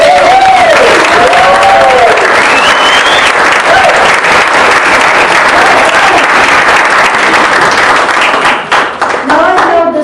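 Loud, continuous applause from a room of Toastmasters club members for the Sergeants at Arms at a district training session, dense clapping with a few scattered cheers and voices rising over it, sustained throughout.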